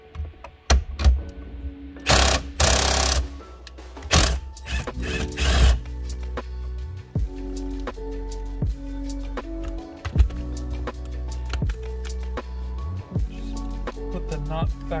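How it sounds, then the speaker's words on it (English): An impact wrench with a 19mm socket undoes the steering wheel nut on an EG Civic: two loud, close bursts of rattling hammering, surrounded by scattered mechanical clicks and clatter from handling the wheel and tools. "Just going to use the impact with a 19 mil."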